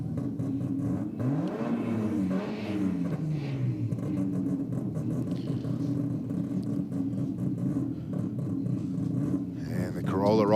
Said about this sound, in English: Little Toyota Corolla in the Aeroflow lane. Up against the Commodore Ute down on the Rocket lane.